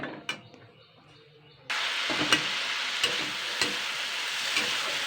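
Potatoes frying in a pan with salt, turmeric and sugar added, quiet at first, then a sudden burst of steady sizzling punctuated by periodic stirring clicks.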